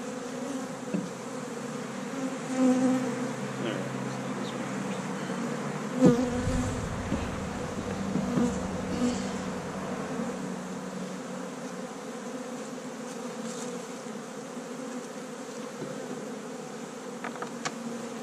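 Honey bees buzz around a hive in an apiary, a continuous close droning hum with individual bees swelling louder as they pass, plus a brief thump midway.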